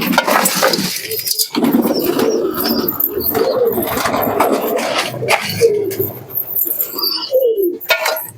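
Several pigeons feeding at night in a loft, soft cooing and wing flutters mixed with busy pecking and shuffling, close and fairly loud, with no talk.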